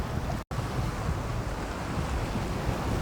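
Strong wind rushes over open water aboard a heeling sailboat, a loud, steady roaring hiss with surf and breaking waves mixed in, broken only by a very short dropout near the start.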